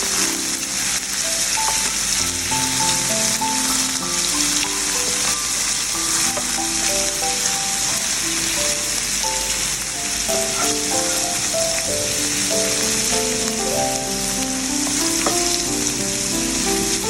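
Garlic cloves fry in olive oil with a loud, constant crackling sizzle, close up, under a backing of melodic music, no talking.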